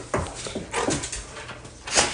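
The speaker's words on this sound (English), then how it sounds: "Oh, that's my dog." A dog whimpers and whines in short, uneven bursts close by, with a few soft yips and shuffling movement between the cries.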